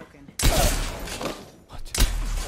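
Gunfire rips into the player in an Apex Legends match, two loud, sharp bursts of shots and impacts about a second and a half apart, with the player talking over the action.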